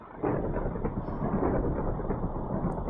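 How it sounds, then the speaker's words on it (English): Heavy rain and thunder roll in a Minecraft-style video game, a steady dense rumbling roar that fills the whole stretch after a sudden start, loud and continuous with no voices. "I'm in the worst place for this thunderstorm."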